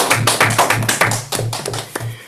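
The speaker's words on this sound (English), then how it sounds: "I'd just like to give one big round of applause to Mr. Patrick for coming out today and giving us that guest speech." A small group claps for a guest speaker at a Gavel Club meeting, giving a short run of sharp, steady hand claps over a low background hum that taper off toward the end.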